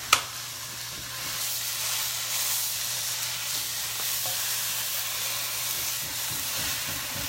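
Frozen meat sautéing in a Ninja cooker for spaghetti gives a loud, steady sizzling hiss that opens with a short sharp burst and then holds constant, close up with no talking.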